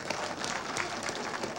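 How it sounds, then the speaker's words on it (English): Audience applause from a crowd at a comedy show, steady and dense throughout without a break, at moderate level. "Applaud."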